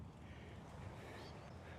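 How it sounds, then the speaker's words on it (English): Steady wind on a golf course buffets the microphone in a dense, rumbling roar that holds at an even level for the whole short stretch. "Bro, it's so windy."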